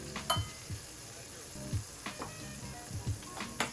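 Meat for shoarma fries in a hot oiled pan, a soft steady sizzle with intermittent clinks and scrapes of a utensil against the pan at close range.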